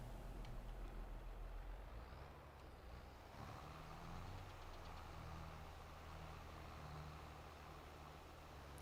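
A tractor engine idling in the farming video game Farming Simulator 22, a steady low rumbling drone throughout with a slight shift in tone midway, fairly quiet and even.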